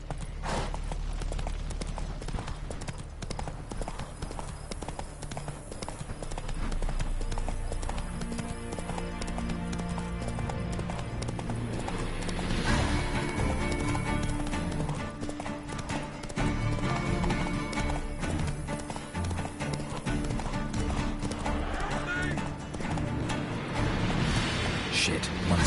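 A horse gallops in The Witcher 3: Wild Hunt, its hoofbeats a steady rapid clip-clop running throughout, with occasional speech and game sounds over the rhythm.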